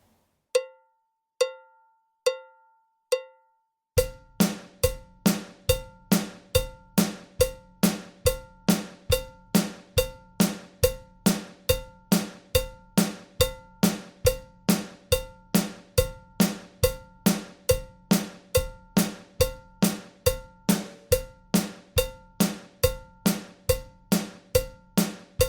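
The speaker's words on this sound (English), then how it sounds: "This is our double time groove. Here it comes at 70 beats per minute." A double time drum groove at 70 beats per minute, opening with a few sparse counted clicks, then a crisp, evenly spaced stream of sharp metallic hits with a low thump underneath, steady and close for the rest of the passage.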